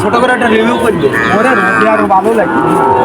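Cattle at the Chuknagar cattle market in Khulna give a long, loud, close moo that drags on with a wavering pitch, while voices of the crowd murmur underneath.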